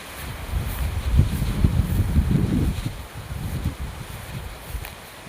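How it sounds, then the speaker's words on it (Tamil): Gusty wind buffets the microphone in rumbling surges, with a faint rustle of swaying coconut palms in the background. "காற்று சரியான காற்றுங்க."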